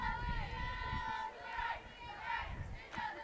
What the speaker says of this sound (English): But you can still hear them cheering for their teammate.